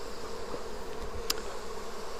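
Honey bees hum around an opened hive during a frame inspection, a continuous low droning buzz that stays steady throughout, close by, with one brief sharp click near the middle and no voices.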